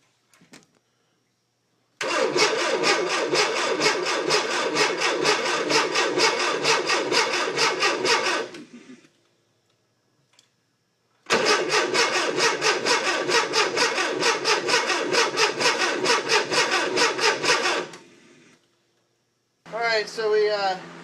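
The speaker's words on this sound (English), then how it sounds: "the starter's working, the motor's turning over, so I'm thinking it's time to start cranking on it" A Subaru engine, converted for van life, is cranked over by its starter in two long, loud rhythmic bursts of churning with silence between them, followed by a brief burst of voices at the end.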